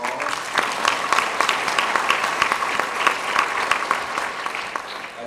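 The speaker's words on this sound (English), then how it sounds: "let's give them a round of applause" An audience at a school Student of the Year awards ceremony applauds in a steady, dense wash of many hands that holds at an even level throughout, with no talk over it.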